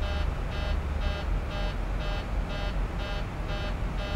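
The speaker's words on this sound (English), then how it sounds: "What's the beep beep? It's cabin pressure." Repeating electronic warning beep for cabin pressure in the Zibo 737-800 cockpit of X-Plane 11, sounding about eight evenly spaced steady tones over a constant low engine and cockpit hum, with no talking.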